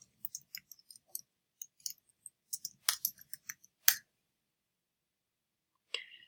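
Sharp mouse clicks while a computer slide show is being built, arriving in scattered single and double bursts, fairly close and crisp, with a brief pause near the end before one last click.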